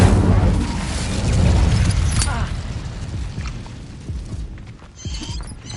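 Incendio fire spell cast in the video game Hogwarts Legacy: a loud, deep whooshing burst of flame with low rumbling boom, crackling and fading over several seconds, with game sound effects layered around it.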